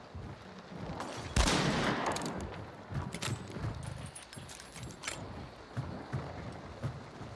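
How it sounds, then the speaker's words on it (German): Video game gunfire in a swamp setting: bursts of rapid gunfire with a loud opening blast, followed by irregular shots and clattering impacts continuing throughout. "Unendliche Schüsse."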